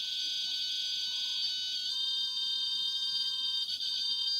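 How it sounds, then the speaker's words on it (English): Home alarm system notification beeps: a steady high electronic tone sustained through the whole stretch with a small shift partway, indoors in a bedroom, no talking. "It's a notification on the alarm again."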